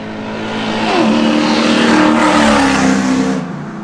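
A straight-piped car idles and revs with its exhaust valve shut, a steady, fairly loud engine drone that swells for a couple of seconds and then eases back down.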